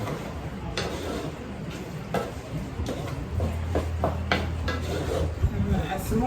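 A spoon scrapes and clinks against a pot while spaghetti noodles are stirred into sauce, producing scattered soft knocks and scraping over a low background hum.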